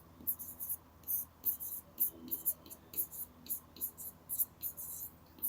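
Pen on paper writing out a maths solution, a quick run of short scratchy strokes in an uneven rhythm, close but faint, with no talk over it.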